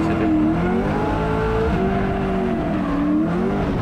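A race car at Val d'Argenton drives hard with a loud, continuous engine drone whose pitch rises and dips with gear changes, a faint turbo whistle riding behind it.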